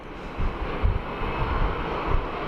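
A Jetstar aircraft taxiing at Sydney Airport, its engines giving a steady broadband roar with wind buffeting the microphone, close and fairly loud.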